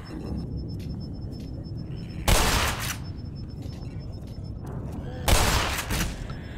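Two heavy shotgun blasts fired at headcrab zombies in the video game Black Mesa, each a loud booming burst a few seconds apart over a low rumbling game ambience.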